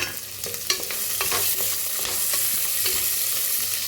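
Garlic and long-cut green chilies fry in a pan, with continuous sizzling and crackling in hot oil and a few scraping stirs near the start.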